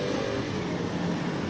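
Small cars and taxis pass along a street in Japan, giving a steady, close engine hum and road noise throughout the short stretch, with no talk.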